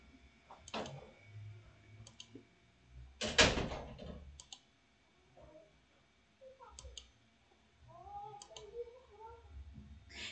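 A classroom door swings shut with one solid thud midway, standing out against a quiet room with faint scattered clicks and soft background noise.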